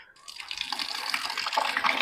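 Water pours steadily from a container onto a dry garden fertilizer mix of neem cake and NPK in a bowl, a close splashing gush that swells after a short start.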